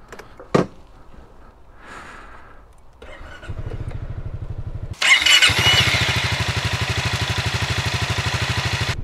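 A Honda Forza 350 GT scooter starts up with a sharp click and settles into a steady idle, then revs and pulls away. The engine drone grows louder and holds as it rides off, close by and with no talking.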